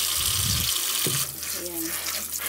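A tap runs with a strong, steady rush of water as something is rinsed beneath it, close up, with a brief voice in the middle.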